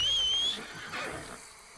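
A horse in Red Dead Redemption 2 whinnies once in a high, drawn-out call that fades away, followed by quieter ambient game sounds.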